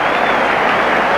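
A large cricket crowd of South African supporters applauds and cheers their captain Kepler Wessels reaching his fifty at the 1992 World Cup match against Australia; dense, steady applause fills the whole moment, loud and continuous.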